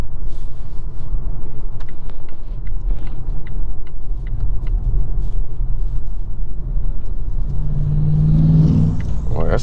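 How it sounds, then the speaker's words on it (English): Inside a 2022 Volvo C40 Recharge electric car at highway speed: a steady low rumble of tyres on the road under a constant rush of wind, with no engine note. "Now at highway speeds you can see the see and feel the wind noise and the road noise."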